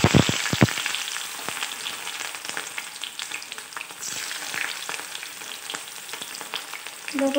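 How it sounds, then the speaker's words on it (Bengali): Chopped onions tipped into hot oil in a kerahi for an ash gourd curry hiss and crackle at once, a loud, dense, continuous sizzle with sharp spatters at the start, close by and without talk. "এতিয়া তেলখিনি গৰম হৈ গ'ল এতিয়া মই ইয়াত পিয়াজখিনি দি দিম"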